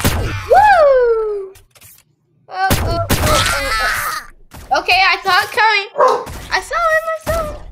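A dog barks and yips in close, excited bursts, with a whining tone, mixed with voices and sound effects from the game Shell Shockers.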